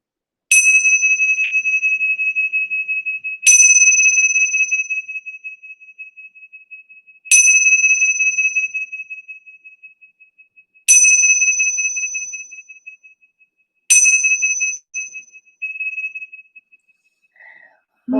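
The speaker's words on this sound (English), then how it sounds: "as I ring the bell, I will bring you back to our magical, powerful hour" A meditation bell struck five times at even intervals, each clear ringing tone decaying slowly before the next strike, close and alone with no talk.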